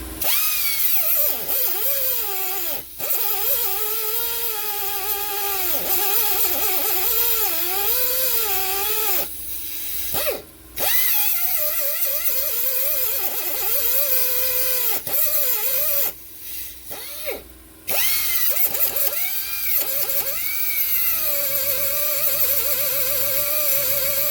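Air-powered tool working on a Subaru tie rod and strut replacement, fed by a 29-gallon Ingersoll Rand compressor: a loud, steady whine with wavering pitch that runs almost continuously, stopping briefly a few times before resuming.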